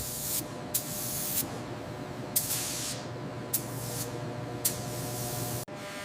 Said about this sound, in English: Applying a surface finish with a spray gun.